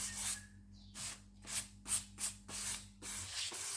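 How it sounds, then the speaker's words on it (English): Light hand sanding along the painted edge of a bedside drawer, a close, soft rhythmic rubbing in several short strokes over a low steady background hum. "there's a bit of a double up of paint on the edge there, so just give it a bit of a light sand to get rid of that"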